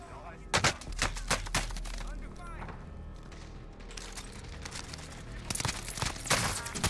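Gunfire in the Warzone battle royale game: sharp, close shots crack in quick clusters, a handful early and a heavier volley near the end, with players chatting over the combat.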